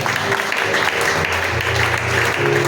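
A church congregation claps steadily during a worship service, dense sustained applause filling the room for a few seconds with a voice faintly underneath.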